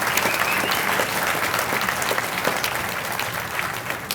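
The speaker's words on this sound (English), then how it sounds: "How about a round of applause?" A ceremony crowd at a university distinguished alumni awards event claps in a dense, continuous round of applause, with distinct individual claps standing out.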